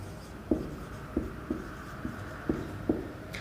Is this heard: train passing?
no